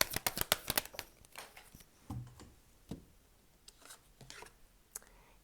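Tarot cards are shuffled and drawn close up, giving a quick run of crisp riffling flicks and then scattered soft slaps and taps as single cards are laid down, quiet and without talk.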